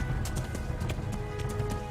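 A horse galloping in Kingdom Come: Deliverance, with steady clip-clop hoofbeats repeating at an even rhythm, fairly quiet and close.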